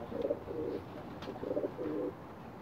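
Soft, low pigeon coos in four short bursts, two pairs separated by a brief pause, fairly close against a quiet background.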